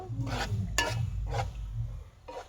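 Onion tempering goes into hot oil already used for frying, and a ladle stirs it in several rhythmic scraping strokes over a low, steady sizzle.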